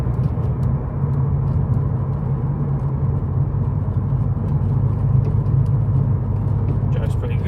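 A Mercedes 190E fitted with individual throttle bodies drives and shifts into fourth gear. Its engine gives a steady, loud low rumble under road noise from inside the car.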